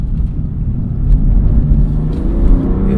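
BMW M2 CS engine revving hard with automatic rev matching during spirited driving, a loud continuous low rumble that swells and blips as the revs climb, close and alone without talk.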